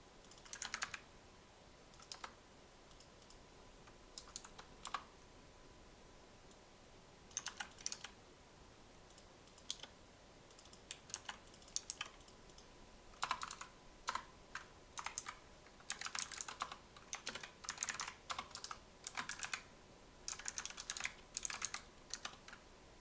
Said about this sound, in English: While I finish typing out this statement.